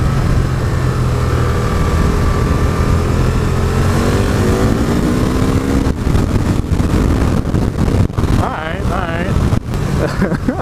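A 2012 Can-Am Spyder RS-S three-wheeled roadster drones steadily at speed under heavy wind rush, then drops a gear and revs up hard with rising engine pitch and sharp bursts, a rider's voice briefly heard.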